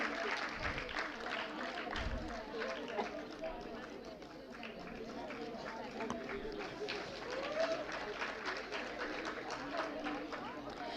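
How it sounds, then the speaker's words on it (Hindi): A Foundation Day celebration audience applauds the women's group after their play, a steady wash of many hands clapping throughout, with voices mixed in. "इतना प्यारा सा नाटक दिखाया था तो तालियां तो जोरदार होनी चाहिए ना"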